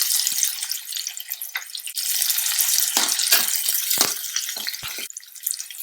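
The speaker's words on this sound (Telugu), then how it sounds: "ఆయిల్ వేడైంది. ఇప్పుడు మనం సన్నగా తరిగిన ఉల్లిపాయను యాడ్ చేస్తాం." Finely chopped onions hitting hot oil in a pan while making mutton curry, giving a loud, continuous bright sizzle and crackle with a few soft stirring knocks, close and with no talking.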